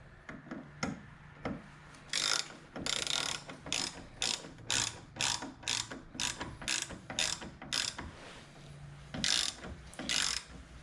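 Hand ratchet clicking in a steady series of sharp bursts while turning a bolt on a Jeep Wrangler TJ during a mirror replacement, close and alone with no talk.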